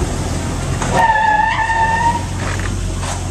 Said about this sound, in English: we're going to slam on the brakes.